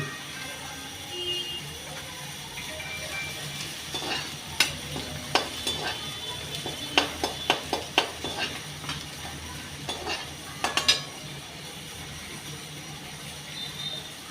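Garlic sizzles gently in a little oil in a pan while a utensil scrapes and clinks against the metal in scattered bursts.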